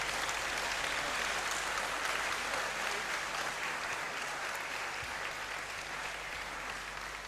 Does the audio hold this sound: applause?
yes